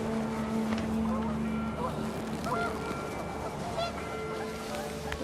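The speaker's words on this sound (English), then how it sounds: "panicked geese appeared and quickly went" Panicked geese honk repeatedly in What Remains of Edith Finch while the wind blows, mixed with a droning engine-like hum, and someone narrates over the noise.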